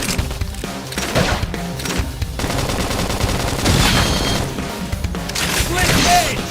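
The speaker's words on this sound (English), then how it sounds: "topple them with some gunfire." Rapid bursts of gunfire and booming impacts pound through a battle in the video game Xenoblade Chronicles X, layered with busy combat effects and voices calling out over the shooting.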